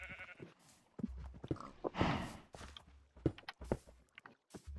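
Minecraft farm livestock, horses, pigs and cows, making scattered animal calls and bleat-like cries mixed with soft footstep sounds, quiet and irregular with no talk.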